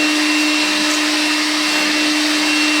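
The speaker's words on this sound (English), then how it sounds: "so I'm not losing any sucking capacity of the vacuum" A Makita vacuum fitted with a cyclone attachment sucking up the last bits of debris, a loud, steady, close roar of rushing air with a constant whine, running without a break and with no talking.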